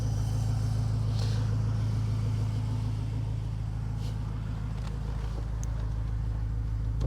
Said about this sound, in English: it's hard to tell in the video how bassy and deep this is, but this has a nice rumble right to start